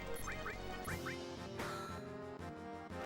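Blue bird enemies in Final Fantasy 7 on the PS1 give a run of short, quacking cries in quick pairs over steady game music, with no talk.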